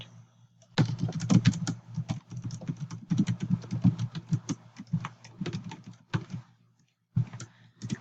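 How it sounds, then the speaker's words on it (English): Fingers type quickly on a computer keyboard, close and crisp, in irregular bursts of clicks with brief pauses and a short silence near the end. "I'm going to type"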